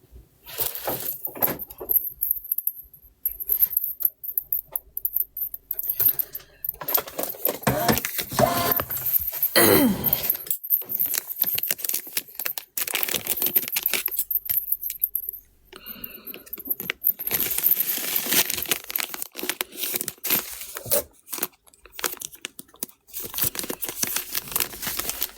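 A heart pendant necklace is packed with crinkling plastic and paper and small metallic jingles, close and fairly loud, in irregular bursts. Short pauses break the handling throughout.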